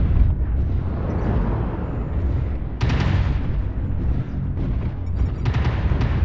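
Airstrike explosions in the mech combat game MechWarrior Online: a dense, continuous rumble of blasts with several sharper impacts standing out, loud and sustained throughout.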